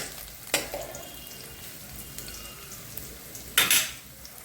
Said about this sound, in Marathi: कांदाही चांगला भाजून घ्यायचा आहे